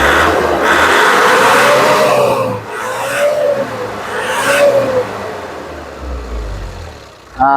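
Nissan Urvan E25 van with a suspected fuel pump problem, its engine idling with three rising and falling revs, each lasting about a second, then settling back to a low idle.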